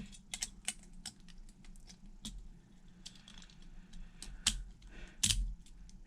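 A Beyblade Burst spinning top, World Dragon, is snapped together from its plastic parts with irregular close, light clicks and taps, some sharper than others, with quiet gaps between them.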